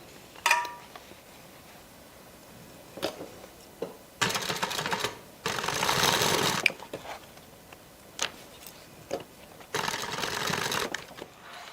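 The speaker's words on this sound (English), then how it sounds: "And then I'm going to stitch." A sewing machine stitching a bag, with several bursts of rapid, rattling stitching of varying length separated by quiet pauses and small handling clicks, close and moderately loud.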